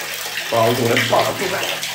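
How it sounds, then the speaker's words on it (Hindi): Cold water runs and splashes while hair is washed with shampoo, a brief close gush of water, with someone speaking over it. "धो दिए बाल मैंने भाई ठंडे पानी से नहाया, ठंडे पानी से"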